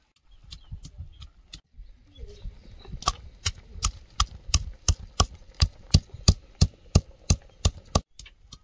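Ginger and garlic ground into paste by hand, likely on a grinding stone: irregular scraping and knocking at first, then a steady, evenly spaced series of sharp, loud strikes, close and with no talking.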